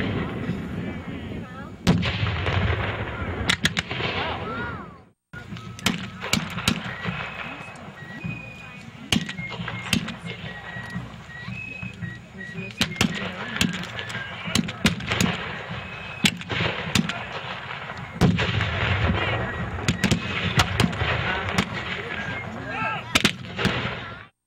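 Cannon and musket fire at a Civil War reenactment roll on continuously, loud booms and sharp cracks at irregular intervals, some close and some distant, with people talking underneath.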